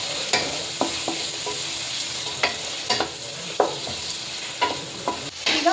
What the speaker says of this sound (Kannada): ಗೆಡ್ಡೆಕೋಸು, ಆಲೂಗೆಡ್ಡೆ, ಕ್ಯಾರೆಟು, ಬೀನ್ಸು, ಅವರೆಕಾಳು ಇದೆಲ್ಲ ಹಾಕಿ ತರಕಾರಿ ಫ್ರೈ ಮಾಡ್ಕೊಳ್ಳಿ